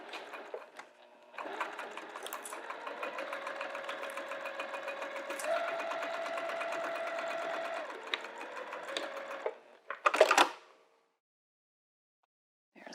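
A sewing machine stitches across a zipper pouch in one steady, fast mechanical run lasting several seconds, close and moderately loud, then stops, followed by a brief rustle and silence.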